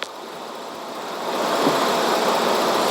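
A police vehicle's engine idles close by in a steady, continuous mid-range rumble that swells slightly louder partway through, with no talk over it.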